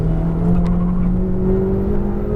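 Ferrari 488 GTB accelerating on a racetrack, engine droning loud and close with a rising steady tone and whirring mechanical layer, no speech over it.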